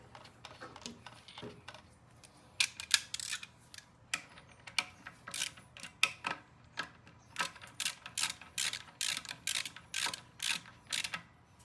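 Sharp metallic clicks and clinks repeat in quick, irregular clusters as nuts with star washers are tightened during a bike install, close and fairly quiet.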